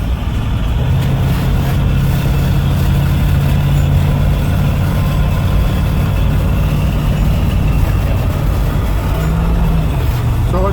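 A 1957 Ford panel van driving on the road, heard from inside as a loud, steady engine drone with low rumble and road noise, continuous and unchanging throughout.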